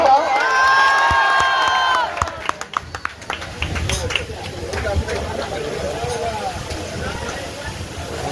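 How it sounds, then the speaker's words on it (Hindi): A crowd at a Guru Purnima birha folk music gathering bursts into cheering and clapping after a shouted call, with a loud mix of applause and excited shouts that then settles into busy crowd noise, heard close and lively. "ऐसे ना तो एक बार हल्ला करके जोरदार ताली हो जाओ।"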